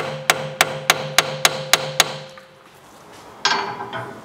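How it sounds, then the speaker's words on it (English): A hammer gently tapping a spline bit into a bolt on a VW Tiguan front suspension, seven evenly spaced sharp metallic taps, then a short pause and a brief clatter. "I usually would knock that in a little bit with the hammer"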